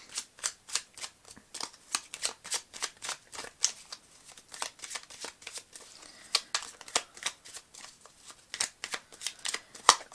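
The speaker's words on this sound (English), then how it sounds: "Now I feel inspired to get another few cards." Tarot cards shuffled by hand, a rapid run of crisp riffling bursts repeating steadily and close up, alone without talk.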